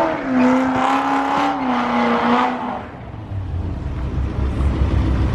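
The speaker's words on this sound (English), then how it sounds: "I learned that the Huracan all-wheel drive can still do donuts" Lamborghini Huracan with all-wheel drive spinning donuts outdoors, engine droning loud and wavering in pitch for a few seconds before shifting into rougher low rumble and tire scrub.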